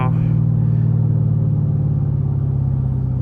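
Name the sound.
Chevrolet Camaro SS engine downshifting via paddle shifter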